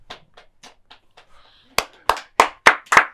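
An audience breaks into applause, five sharp, loud bursts of hand claps in a loose rhythm following a run of fainter taps and indistinct background voices.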